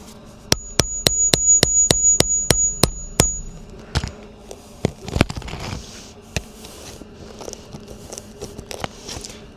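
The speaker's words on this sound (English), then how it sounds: "I'm gonna use this claw and my hammer to get up underneath of that nail and pop it out" Nine quick, evenly spaced metallic taps ring out, followed by scraping, prying knocks and creaks as a claw hammer works a roofing nail loose from a wind-damaged shingle.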